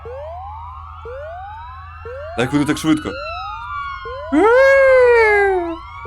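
Police sirens in the video game Go To Sleep wail with repeated rising sweeps, loud and close, joined by a brief burst of electronic noise and a higher warbling siren near the end, while a person speaks briefly.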